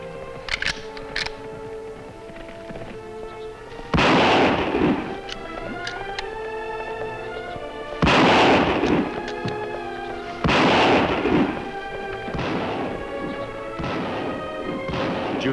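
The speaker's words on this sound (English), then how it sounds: "Shots come from that direction, Kemo Sabe." Gunfire in a western film scene, with several loud, sharp shots in separate bursts and music playing underneath.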